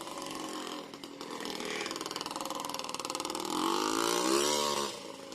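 A rebuilt Yamaha Blaster ATV two-stroke engine runs and revs up through the gears, a buzzy, raspy drone that swells louder near the end.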